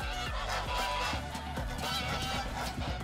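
A flock of geese honks loudly and continuously, many overlapping calls forming a dense, agitated chorus close by for about three seconds.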